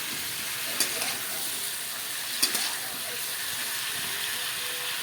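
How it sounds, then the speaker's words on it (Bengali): Steady hissing sizzle of cauliflower florets browning in hot oil in a pan, close and even throughout, broken by two brief clinks of a utensil against the pan. "ঢাকতে থাকো ফুলকপিগুলোকে লাল করে ভেজে নেবে"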